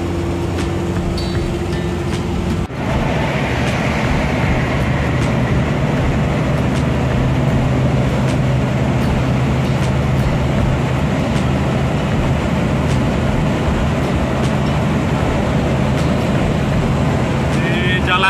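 A Suzuki Carry 1.0 drives along an elevated toll road, a steady loud cabin drone of engine and road noise running throughout with a brief bump early on; a voice speaks over it at times.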